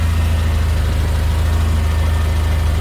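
A Mercedes-Benz GLA45 AMG with its tuned 2.0L four-cylinder idles while warming up after start-up, a loud, steady low engine hum with an even pulsing throb and no talk.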